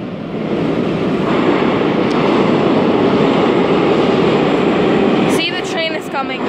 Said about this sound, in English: See, the train is coming.